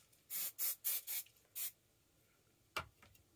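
Aerosol hairspray hisses in several short bursts of about a quarter second each while a wet-look hairstyle is being set. A further brief spritz follows after a pause, all close and fairly quiet.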